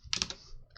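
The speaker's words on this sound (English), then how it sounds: "So it will be better to me to start typing." A few quick keystrokes on a computer keyboard, close and soft, bunched into a short burst of clicks followed by a lighter tap or two.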